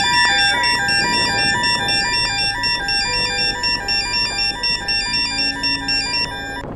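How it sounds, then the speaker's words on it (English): A lifeboat crew pager alert goes off in a Roblox re-enactment of a Lyme Regis RNLI rescue: a loud electronic melody of stepped beeping tones that repeats steadily throughout, with no voices. "Then the pager began."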